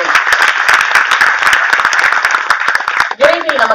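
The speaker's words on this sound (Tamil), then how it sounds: "அத்தனை பேரின் கைத்தட்டலையும் பாராட்டுதலையும் பெற்ற 85 வயது இளைஞன்ஐயா எஸ் பி முத்துராமன் அவர்கள் மட்டுமே" Audience applause in a hall at a Tamil film audio launch event, dense sustained clapping from a large crowd throughout, loud and close, briefly dipping near the end.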